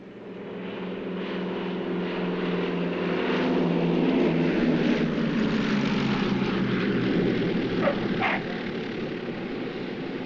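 A propeller airplane in flight, from a 1947 film about the atomic bomb, gives a loud, steady engine drone that swells slightly and holds for about ten seconds with no talking.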